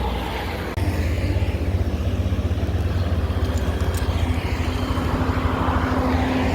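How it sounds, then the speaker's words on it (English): Heavy vehicles, buses on a mountain road in the Philippines, rumble past at close range with a loud, sustained engine drone and road noise after a brief quieter opening. "Watch these buses going by real quick."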